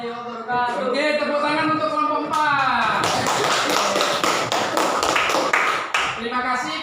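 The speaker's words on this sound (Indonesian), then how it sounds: "tepuk tangan untuk kelompok 4" Classroom students clap for a presenting group, a dense burst of clapping that starts after a few seconds of speech and continues loudly with scattered voices and thumps underneath.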